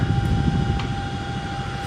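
Twin-engine Chinook helicopter hovering, a steady loud rotor and turbine whine with an even, unchanging drone and no voices.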